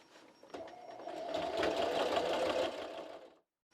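A sewing machine stitches carpet tiles together in one steady run of about three seconds, starting after a brief backstitch and stopping abruptly, with a close, busy mechanical whir.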